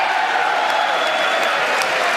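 Dense crowd noise and applause fill a congressional chamber during a presidential address to Congress, a steady, loud wash of clapping and voices with no breaks.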